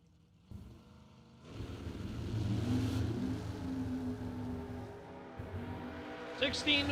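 Drag racing engines roar at a track as a roadster comes off the throttle stop, a loud sustained drone that builds and holds before easing slightly, with an announcer talking over it.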